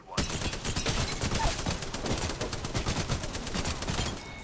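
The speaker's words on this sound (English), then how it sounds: "that is why the Spitfire is my favorite weapon" The Spitfire light machine gun in Apex Legends fires one sustained, loud burst of rapid automatic shots lasting about four seconds, with the rounds blurring into a continuous rattle.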